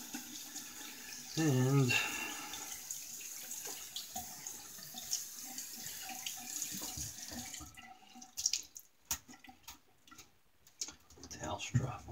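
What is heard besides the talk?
water running from tap while rinsing a shaving brush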